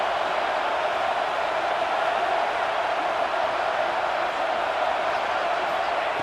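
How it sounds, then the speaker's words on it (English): A Penn State football stadium crowd roaring during a goal-line defensive stand, a steady, loud, unbroken wall of cheering and noise from thousands of fans. "This crowd is trying to inspire this defense to make a big red zone stop."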